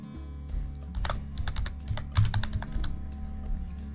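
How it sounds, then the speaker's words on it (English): Slow, uneven hunt-and-peck typing on a computer keyboard: scattered single key clicks with irregular pauses, close and clear over a low steady hum. "My typing is horrible, slow, haphazard, very hunt and peck."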